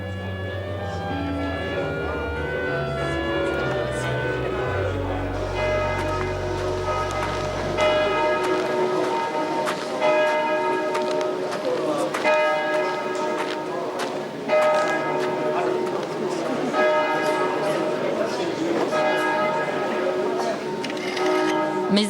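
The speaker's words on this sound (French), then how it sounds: "Mais alors que les cloches sonnent" Church bells ring out in a steady, repeated peal for a parish funeral in France while a narrator talks over them, after a low rumble at the start.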